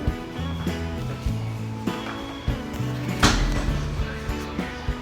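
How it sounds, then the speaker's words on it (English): Lift door in a small four-person European elevator sliding open and then pushed by hand, a few knocks and clunks over a steady mechanical hum, with one louder bang midway. "now the door opens, and now I can push the door"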